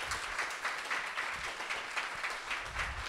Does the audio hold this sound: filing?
no